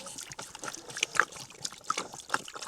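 Fresh, warmish water poured out for pigs on a farm in freezing weather, heard as an irregular trickling and splashing with a few brighter drips and gurgles, fairly close and moderately quiet.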